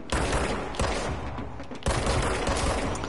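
Dense gunfire in the Control video game, a loud unbroken fusillade of rapid overlapping shots that pauses briefly near the middle and then resumes just as heavy.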